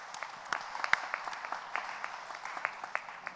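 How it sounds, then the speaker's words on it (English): A small audience at a panel discussion on pollution and filtration claps for the panelists, a sparse, fairly quiet round of distinct claps over a few seconds. "Huge round of applause for all the panelists who have taken time out to be here."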